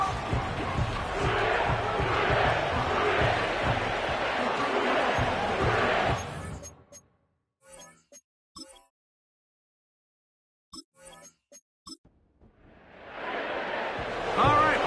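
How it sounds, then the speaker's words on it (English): Stadium crowd roaring in an EA Sports football video game, a loud dense wash for several seconds that cuts to near silence with a few brief faint noises, then swells back up near the end. "The crowd is definitely ready."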